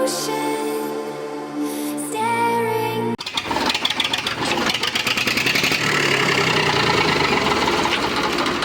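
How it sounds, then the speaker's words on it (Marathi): A tractor engine fitted with a silencer idles with a low, steady rhythmic chugging after a brief tonal sound at the start, muffled and fairly even throughout. "आता सायलेन्सर लावला आवाज बघा कसा येतोय, एकदम सायलेंट येते ट्रॅक्टर"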